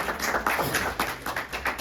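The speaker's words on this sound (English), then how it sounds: "One big round of applause to kids." Small group clapping for children at a cultural center session, a loose rhythmic patter of hand claps, moderately close, with no talking over it.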